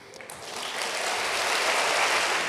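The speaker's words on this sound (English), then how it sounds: "Governor Roy Cooper gets a round of applause for his budget proposal" Applause for Governor Roy Cooper at the National Smart Start Conference, a dense round of clapping from a large audience that builds quickly and holds steady and loud, with no talking over it.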